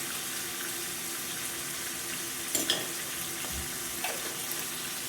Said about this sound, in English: we're just going to go ahead and spread these out in the pan so that they can cook